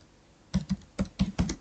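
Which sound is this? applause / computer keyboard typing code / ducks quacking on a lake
computer keyboard typing code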